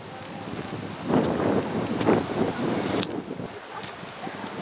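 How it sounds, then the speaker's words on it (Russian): Steady gusty wind buffets the microphone beside a small lake on a breezy day, a constant rushing roar with surges and no voices. "Сегодня ветреная погода"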